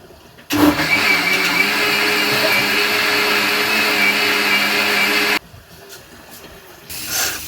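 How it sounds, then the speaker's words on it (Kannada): A kitchen mixer grinder whirs loudly and steadily while grinding spice masala paste for Tyson chicken masala, running for about five seconds before cutting off abruptly, followed by faint handling noise. "ಈಗ ಖಾರ ರುಬ್ಕೊಂಡು ಬರ್ತೀನಿ. ಸ್ವಲ್ಪ ತಣ್ಣಗಾದ್ಮೇಲೆ ಮಿಕ್ಸಿ ಹಾಕ್ಕೊತೀನಿ"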